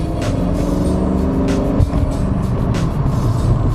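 Ford Mustang GT 2V (New Edge) with an Airaid MXP cold air intake rolls on from about 20 mph, giving a steady, rumbling engine and road drone that stays fairly even throughout, with no voices.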